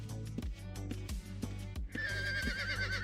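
A horse in the online game Ultima Online makes a steady run of hoof clops, then lets out a long, wavering whinny near the end, all loud and close.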